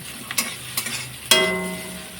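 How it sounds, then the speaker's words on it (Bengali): Onions frying in oil in a pan while cooking chicken keema, a close sizzle broken by a few quick stirring scrapes and a brighter burst of frying near the end, with no voices. "পেঁয়াজটা ভাজা হয়েছে"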